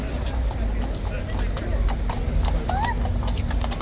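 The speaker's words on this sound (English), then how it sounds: "Nice view of the two horses riding into the yard." Two horses walking into a yard, hooves clip-clopping in a steady, uneven patter at close range, with a brief whinny, background crowd noise and people talking over it.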